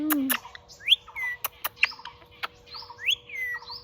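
Pet bird Mithu at home calling in close, loud chirps and rising whistled notes, several in quick succession, mixed with sharp clicks over a low background hum.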